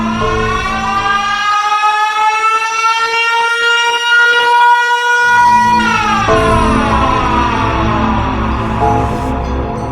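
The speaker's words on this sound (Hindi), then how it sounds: "सायरन हेड जोरदार आवाज निकालकर गुल्ली बुल्ली और शॉन के नाक में दम कर देता है।" Siren Head monster in a horror video game: a loud, sustained mechanical wail with rising and falling pitch, like an air-raid siren, sweeping continuously and filling the whole stretch.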